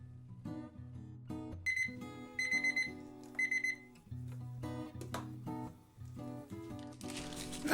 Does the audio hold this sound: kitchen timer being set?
yes